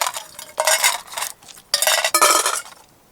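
Sugar pieces tossed into a clean pot outdoors in the woods while making Glühwein, several bursts of rattling, clinking tumbles against metal, loud and close with short gaps between.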